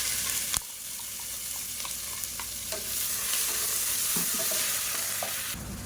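Ground onion paste frying and being stirred in a pan for mutton biryani gravy, a steady close sizzle with scraping stirs and occasional clinks of a spoon, no voices.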